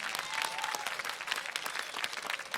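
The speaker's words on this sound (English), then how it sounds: "give them a round of applause, please" Audience applause at a 2021 performing arts high school graduation ceremony, a dense, fairly distant patter of many hands clapping steadily for a few seconds.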